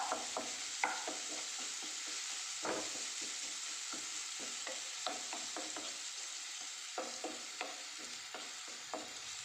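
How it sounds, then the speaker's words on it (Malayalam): Onions sautéing in a pan and being stirred, giving a soft, steady sizzle with repeated scraping strokes at an irregular pace, heard fairly close with no talk. "സവാള നല്ലോണം വഴന്ന് വരട്ടെ."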